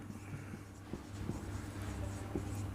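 A pen writes a proof on paper or a board in a maths lesson. Soft scratching strokes and light taps recur irregularly over a low steady hum.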